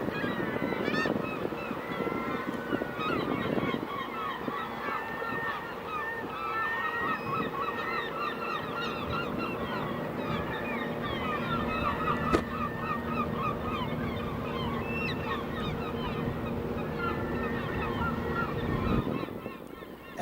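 Seabirds call continuously over open ocean water, a busy chorus of honking, squawking cries near and far with a faint wind in the background and no engine running.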